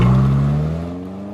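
Car pulling away on a road trip from San Francisco, engine loud and close at first then droning lower and fading over a second or so, alone.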